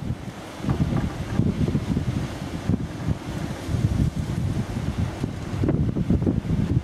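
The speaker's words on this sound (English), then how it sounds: "Wind gusts up around 12 meters per second" Strong wind gusts buffet the microphone near a small 300-watt wind generator in Australia, a steady, loud, rumbling roar that swells and eases with no voices.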